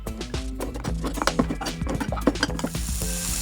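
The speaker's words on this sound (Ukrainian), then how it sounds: "Смажується цибулька з перчиком." Chopped onion and bell pepper frying in a pan for a tomato sauté, a steady sizzle under clinks and scraping of a utensil against the pan, close and fairly loud.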